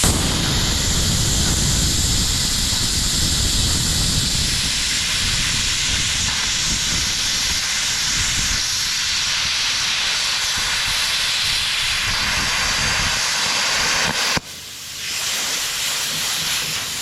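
An AutoGen 55A plasma cutter runs with its air pressure turned up, giving a loud, continuous hissing roar that cuts out abruptly near the end and then returns at a lower level.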